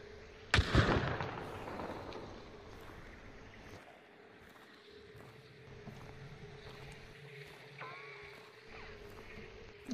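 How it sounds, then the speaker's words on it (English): Gunfire in the video game Hunt: Showdown, a single sharp, loud shot near the start ringing out and decaying over a low ambient drone, with faint movement sounds afterward. "I'm getting shot at."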